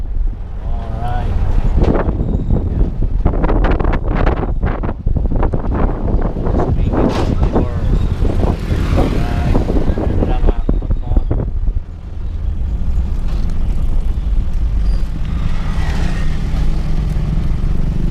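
Steady, loud traffic of many vehicles, cars, trucks and motorcycles, along a zigzag road on the way to Laguna, Philippines, with continuous engine rumble and wind buffeting the microphone, a brief dip near twelve seconds, and a voice talking intermittently over it.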